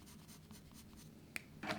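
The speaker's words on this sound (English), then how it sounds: "We've also got our black fine liner here" A black fine liner pen scratching across paper in short soft strokes, faint and close, with a couple of sharper taps and scrapes near the end.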